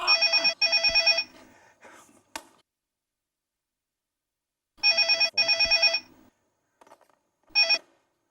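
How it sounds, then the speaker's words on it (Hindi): Telephone bell ringing in two bursts of rapid trilling rings separated by a pause, fairly clear and close in an indoor setting, with no talk over it. "फोन बज रहा है।"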